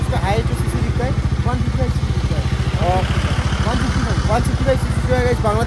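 A Bajaj Dominar 400 motorcycle riding on the road from Siliguri to Darjeeling, its engine a steady, rapid pulsing throb throughout while people talk over it.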